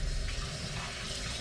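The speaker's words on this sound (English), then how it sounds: "run water into this immediately and rinse it out" Tap water runs into a container used for mixing lye for cold process soap, rinsing it out in a short, close, steady rushing pour with no voices.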